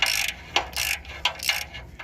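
A ratchet backs a bolt out of the exhaust on a 2017 Ram ProMaster City 2.4 during catalytic converter removal, giving four close, loud bursts of rapid clicking in an uneven rhythm, with no voices.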